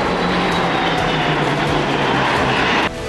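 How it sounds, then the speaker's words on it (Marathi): A Rafale M naval fighter jet roars steadily as a loud, broadband engine rush that holds throughout and drops off sharply near the end, with no voices. "राफेल एम हे अत्याधुनिक विमान"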